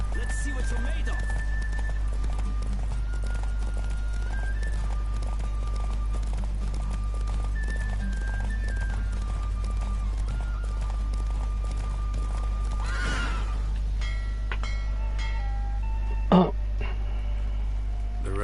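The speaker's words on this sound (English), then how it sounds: "The roach I chose put in a nice run." Geralt's horse Roach gallops in a race in The Witcher 3, steady rhythmic hoofbeats running under game music and occasional talking, with a brief snort or whinny near the end.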